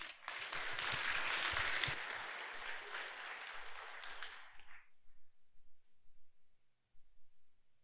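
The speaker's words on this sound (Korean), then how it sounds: "큰 박수 부탁드리겠습니다." An audience at an academic award presentation applauds loudly with dense, steady clapping that fades out after several seconds, leaving quiet room tone.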